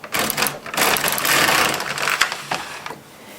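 An LK150 knitting machine carriage is pushed slowly across one last row, giving a continuous close mechanical whirring and clatter that runs about three seconds before easing off.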